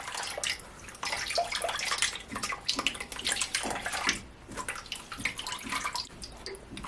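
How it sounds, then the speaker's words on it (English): Grated coconut is squeezed by hand through a kitchen strainer, giving soft wet squelches and liquid splashing and trickling in irregular bursts, close and fairly quiet, with no talking. "I'm gonna take my hand and squeeze out all that coconut milk."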